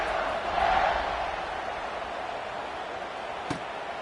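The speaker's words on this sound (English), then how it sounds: "this crowd now ready to get behind them" Large stadium crowd at a football scrimmage kickoff, a broad steady roar of cheering that swells briefly early on and then holds, with one sharp thud near the end.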